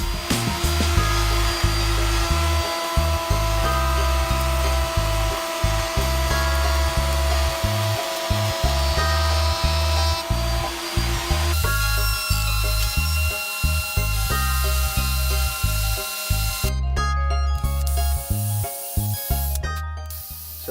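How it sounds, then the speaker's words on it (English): A drill bores pilot holes and countersinks them for screws in a wooden workbench, loud and close, in repeated whirring bursts that start and stop in a choppy rhythm. "So now I'm just drilling the pilot holes for the screws and then countersinking them."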